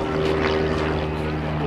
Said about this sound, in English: keep your eyes on Jason Flood in the red and white pitch special